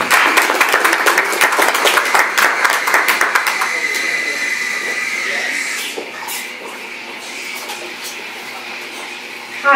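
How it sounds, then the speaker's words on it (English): A small audience gives a round of applause for a speaker at a community meeting in a cafe, clapping strong at first then thinning out and fading into room noise. "please give Josey Davis a big round of applause."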